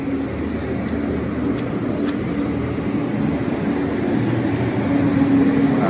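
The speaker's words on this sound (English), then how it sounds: "Very loud ass truck." A heavy truck rolls past on a street in Topeka, Kansas, its loud, steady low rumble building slightly toward the end and filling the scene with no talk.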